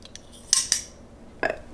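A Grimsmo Norseman folding knife blade drops shut with a sharp metallic click, followed by a second click as it bounces back out, then a faint third tick; brief, close and crisp.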